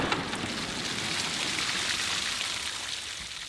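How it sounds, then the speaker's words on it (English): Steady rain falls outdoors, a continuous close hiss of drops pattering on surfaces, even and unbroken with no voices. "You hear the rain?"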